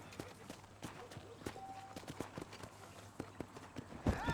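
Horse hooves clip-clopping in the Red Dead Redemption video game, a steady run of distinct hoof strikes over a noisy ambient bed, ending with a louder burst at the close.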